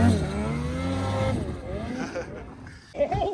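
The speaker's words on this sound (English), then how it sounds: "he totally overrides the snowmobile. On a 154 turbo." A 154 turbo snowmobile engine revs and roars with rising and falling pitch, close and steady for most of the stretch, with a voice briefly heard near the end.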